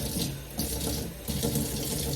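Tap water runs steadily into a sink or container to water a houseplant, a continuous close splashing hiss that swells and dips slightly, with no talking.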